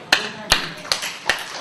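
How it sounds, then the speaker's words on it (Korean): Hands clapping at a church sermon, four sharp, evenly spaced claps about a third of a second apart, close and fairly loud over a quiet room. "박수 쳤어요."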